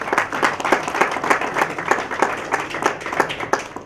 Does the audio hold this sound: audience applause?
yes